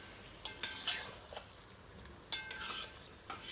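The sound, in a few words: frying yogurt with korma ingredients in a pan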